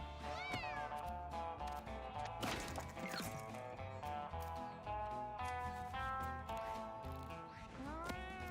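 Cartoonish cat meows from the video game Mewgenics sound repeatedly over busy game music, with a few thuds and crashes mixed in and no talking.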